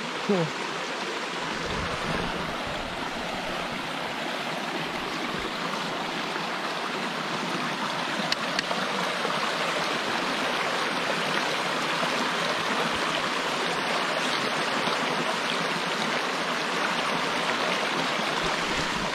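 A woodland stream in the Morvan rushes steadily as someone tries to cross it on foot, a loud, continuous, broadband wash of flowing water that stays even throughout, close by, with no voices.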